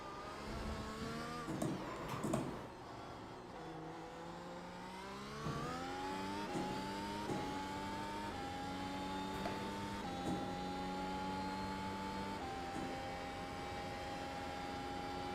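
Mercedes F1 W12 engine in iRacing on a flying lap of Silverstone, a steady high-revving whine climbing through upshifts with brief drops on braking and downshifts, sustained and close throughout.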